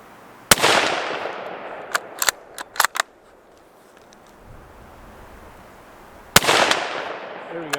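Sharp, loud rifle shots from a Ruger American Scout ring out outdoors, one at the start and another near the end, with reverberant tails and a few smaller clicks and clatters of handling between them.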